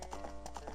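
A horse in The Legend of Zelda: Ocarina of Time 3D trots in a quick, even clip-clop of about six hoof strikes, close and fairly loud over a low steady hum.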